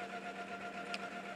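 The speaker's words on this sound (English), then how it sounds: "wish my printer wasn't being so loud" A printer runs loudly and steadily with a constant mechanical drone and a whirring hum, plus a brief sharper click near the end, all without any voices.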